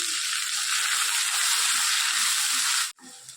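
Chopped onion, garlic and ginger sizzle loudly in hot ghee with a dense, steady frying hiss, close up. The sound cuts off abruptly near the end, leaving a quieter background.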